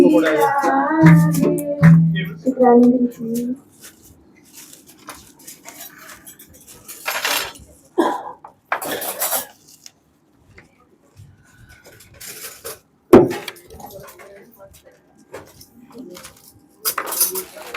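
Steel spoons and dishes clinking while food is served at a satsang bhandara community meal in Delhi, with bright ringing metal clatter at the start and scattered clinks and knocks later, amid quiet background voices.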